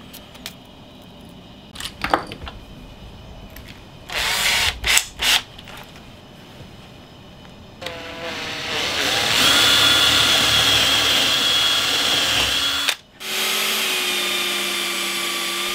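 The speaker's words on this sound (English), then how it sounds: "Rotating around the pivot point as we sanded allowed us to get a near perfect circle." A power sander working a wooden disc screwed loosely to a pivot, giving a loud steady close whine after earlier knocks and short bursts, briefly stopping and then resuming.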